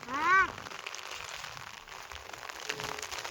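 Heavy rain falls over a farm with orchard crops, a soft continuous hiss of rain at moderate distance, opened by a brief high whistling tone.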